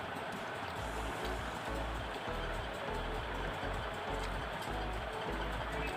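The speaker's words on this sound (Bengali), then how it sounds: "তো প্যাকটা আমি ধুয়ে ফেলবো।" Running tap water pours steadily over a food pack being rinsed, a continuous close rushing wash with no pauses.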